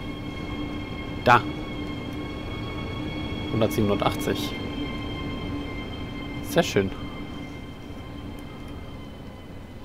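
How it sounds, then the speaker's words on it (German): A freight train passing in the Train Sim World 3 simulator on the Bremen–Oldenburg line, heard as a steady low rumble with a few brief louder clatters, under occasional talk. "Ich höre doch noch einen Zug."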